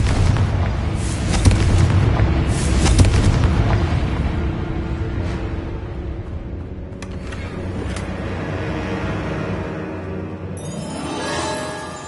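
A Confringo spell explosion in Hogwarts Legacy on PS5 sets off a loud booming blast and rumbling crackle that slowly fades, followed by quieter game ambience and a brief bright shimmer near the end.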